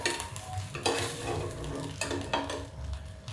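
Fasting dosa frying and sizzling on a pan as it is turned over, with continuous crackling, stirring-like scrapes and soft utensil contact sounds, fairly close.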